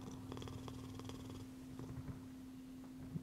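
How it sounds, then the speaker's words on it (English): A cat being petted in the Hades 2 video game purrs in a soft, steady, rumbling rhythm, close and quiet, with a faint constant hum beneath and no talking. "Let's pet the cat for good luck."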